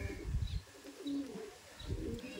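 Chennai line Madrasi pigeons coo in low throaty bursts, two or three rolling coos spaced apart, fairly close with faint chirps in the background.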